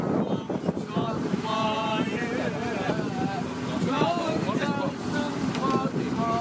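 Wind buffets the microphone aboard a moving boat, with a singer singing over the steady rush of air and engine.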